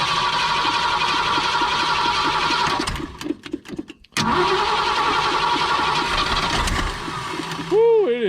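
A 1965 Ford Galaxie 500 engine cranks and catches, then runs roughly at a steady idle with a short stumble in the middle, ending in a squealing whine as it is shut off.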